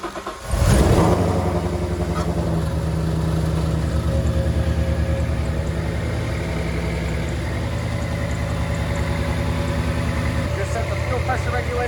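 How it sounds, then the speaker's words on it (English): A supercharged Whipple S550 stick-shift car cranks and fires up with a sharp burst, then settles into a steady, rumbling idle nearby. "Car start up, no problems."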